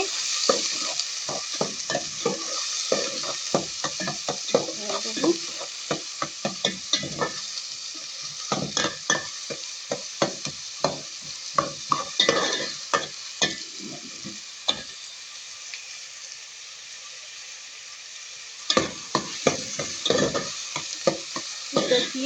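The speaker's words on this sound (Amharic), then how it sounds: "ዘይት አድርጌበታለሁ። ሽንኩርት እናደርጋለን። ሽንኩርት አድርጌ" Onions frying in oil in a pot for chicken macaroni, a continuous close sizzle broken by frequent sharp spoon stirs and scrapes, briefly quieting before stirring resumes.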